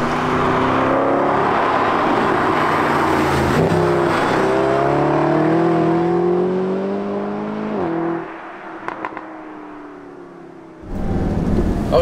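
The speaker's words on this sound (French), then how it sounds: "On a les grosses explosions à l'échappement aussi au lever de pied." A Mercedes SLS AMG Roadster with a 571-horsepower engine revs loudly and close, its pitch climbing and falling through several pulls. It then eases off into a few sharp exhaust crackles and pops before the engine swells again, with no voices.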